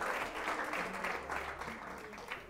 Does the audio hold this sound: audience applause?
yes